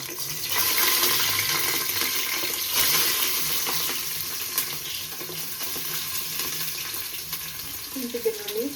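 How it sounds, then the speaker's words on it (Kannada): Spices frying in a pan for mutton sambar, a steady crackling sizzle with stirring and clinks, close and continuous throughout. "ಫಸ್ಟ್ ಇವೆಲ್ಲ ಹಾಕೊಂಡು ಹುರ್ಕೊಬೇಕು."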